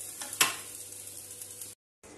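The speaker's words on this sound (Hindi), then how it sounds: "अब हम इसे बैटर में मिक्स करते हैं।" A spoon stirs hot tempering into oats idli batter, a soft sizzle with a sharp clink near the start and a brief scraping swirl before it cuts out.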